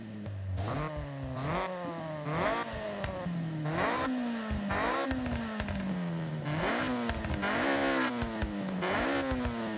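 The engine of a 2008 Honda Civic Type R in Forza Horizon revs hard and repeatedly, pitch climbing through each gear before dropping on the shift, a loud continuous high-revving wail with crackles between pulls.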